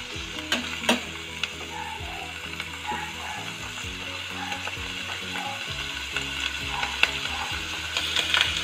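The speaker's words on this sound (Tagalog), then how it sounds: "Haluin lang natin." Mushrooms sizzle steadily in a frying pan while a utensil scrapes and stirs them, with irregular clicks and knocks against the pan over a constant frying hiss; no talking.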